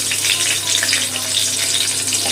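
Nigella seeds and two green chillies fry in hot oil, giving a loud, steady, close sizzle and crackle that runs throughout without talk.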